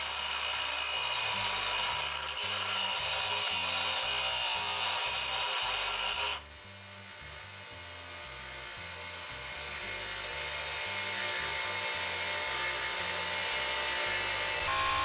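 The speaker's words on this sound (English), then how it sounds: "take the PVC pipe to the bench grinder and lightly touch the end while turning the pipe" A bench grinder touches the end of a PVC pipe that is turned against the wheel, making a loud continuous abrasive whine with grinding texture that drops sharply halfway and then carries on as a steadier, slightly rising hum.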